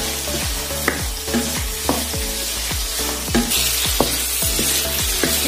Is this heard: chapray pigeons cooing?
no